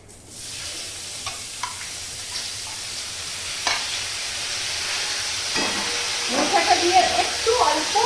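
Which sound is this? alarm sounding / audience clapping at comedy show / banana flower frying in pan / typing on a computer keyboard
banana flower frying in pan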